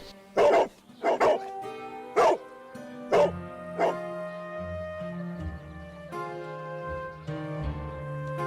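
A dog barks in a run of loud, close, separate barks, about five of them in the first four seconds. Each bark sounds tonal and whining, and a lower musical drone continues underneath and carries on after the barking stops.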